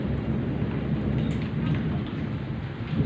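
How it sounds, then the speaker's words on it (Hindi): Heavy rain pours steadily in a dense, continuous hiss, with low thunder rumbling underneath throughout; no one speaks. "बहुत ही ख़तरनाक वाला मौसम हुआ है, बहुत ज़्यादा तेज़ बारिश हो रही है"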